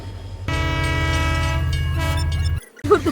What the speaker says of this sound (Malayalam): ഇതെന്തോ ലോക്കൽ ട്രെയിൻ ആണെന്നാ തോന്നുന്നു